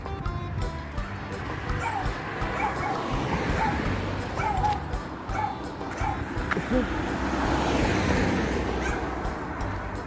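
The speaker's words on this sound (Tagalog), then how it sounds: "Kamaingay dyan, aso ka." A dog on a farm barks, yips and whimpers in repeated bursts, heard amid outdoor background noise while people talk nearby.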